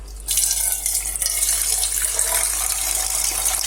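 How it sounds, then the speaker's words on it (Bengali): Water pours steadily from a household water filter tap into a container, a continuous close gushing stream with no speech. "এই যে ফিল্টার থেকে জল দিব"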